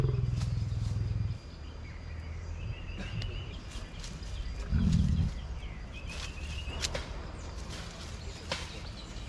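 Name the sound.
lion growling at Entebbe zoo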